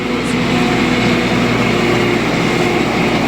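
An MTZ 892 tractor engine runs steadily during grass mowing with a rotary mower, a continuous loud low drone heard close up with no voices.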